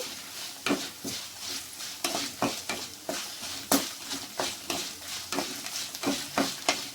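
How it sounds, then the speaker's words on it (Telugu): Coriander seeds and cumin dry-roast in a pan on a low flame, giving a soft continuous sizzle with about a dozen sharp scraping stirs, spread at a steady rhythm, heard up close with no voices. "ఒక స్పూన్ ధనియాలు, హాఫ్ స్పూను జీలకర్ర వేస్తున్నానండి. బాగా కలపండి. సిమ్లో పెట్టుకొని వేయించుకోండి"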